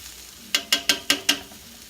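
Five sharp pops in a quick, even series, each a bright crackling burst from paella cooking in a hot pan, with quiet between them.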